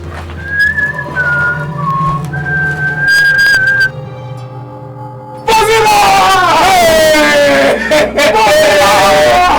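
A person whistles a clear, sliding tune in several phrases, then a louder stretch follows with wavering whistled notes over voices and background noise.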